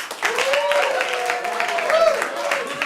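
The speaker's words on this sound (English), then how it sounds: "Applaud now if it was Jesse" Audience applause at a comedy improv tournament show, clapping to vote for a contestant's joke; a dense, steady wash of clapping with a raised voice or cheer running through it.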